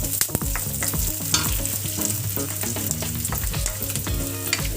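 Onions sizzle in a pan for chana masala, with repeated clattering and scraping as a spoon stirs them through crackling oil, close and lively with no voices.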